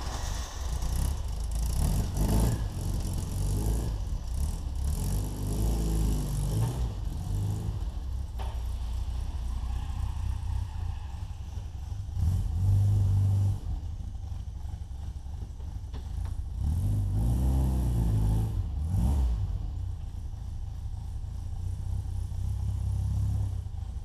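A five-speed Bugeye Sprite British sports car drives along on a road with a continuous low engine drone and rumble that rises and eases between gears, heard steadily from inside the car with no talking.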